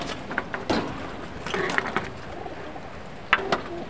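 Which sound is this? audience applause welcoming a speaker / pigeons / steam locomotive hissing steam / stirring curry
pigeons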